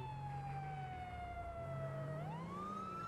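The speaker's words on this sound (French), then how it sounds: "On va couper la sirène." Police car siren in GTA V, a steady electronic wail that drifts slowly downward and then rises again, loud and continuous with engine rumble beneath, no talking.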